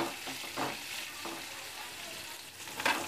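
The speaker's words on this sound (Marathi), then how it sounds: "व्यवस्थित चांगलं फ्राय करून घ्यायचं आहे।" Sliced capsicum fries in a pan over a medium gas flame, giving a soft, continuous crackle with a few light scrapes of stirring, faint and close.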